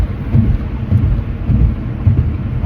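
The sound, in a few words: rain and thunder on a cold morning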